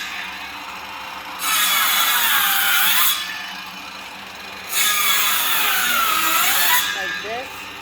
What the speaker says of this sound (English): So to notch this out, to put the brace in, he's just cutting strips.